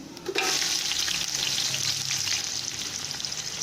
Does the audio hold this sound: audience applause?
no